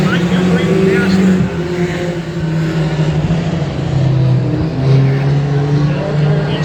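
Mini trucks race on a dirt track at night, engines droning and revving loudly as they pass and slide through the turns, with an announcer talking continuously over the noise.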